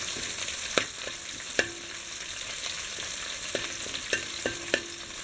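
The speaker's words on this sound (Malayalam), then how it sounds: "ഇതെല്ലാം കൂടെ നമുക്കൊന്ന് നന്നായിട്ട് വഴറ്റിയെടുക്കാം." Curry leaves and dried red chillies sauté in a pan with a steady close sizzle, broken by sharp scraping taps of a spoon stirring at irregular intervals.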